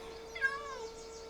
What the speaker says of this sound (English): Hi, little kitty.